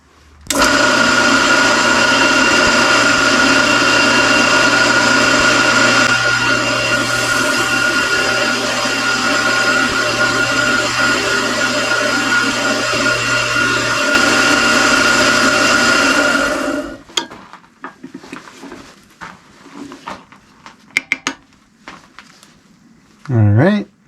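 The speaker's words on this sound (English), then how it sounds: "Got a drill bit that fits the holes of the knife." A drill bit bores holes through an old knife blade, a loud, steady, whining power-tool drone that runs unbroken for about seventeen seconds, then cuts off, leaving faint scattered handling clicks and knocks.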